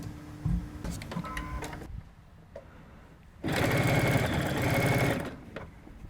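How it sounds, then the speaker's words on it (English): A sewing machine stitching a half-inch seam allowance while joining quilt blocks: a short run with clicks and handling, a pause, then a steady close whirring burst that stops. "let's go back to the machine here, and we'll sew our other 1/2 inch seam allowance"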